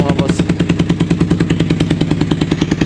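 Raider 150 motorcycle with a carburetor and racing quick throttle, its exhaust pipe revving in quick, even pulses, loud and close, with a steady rhythmic throb throughout.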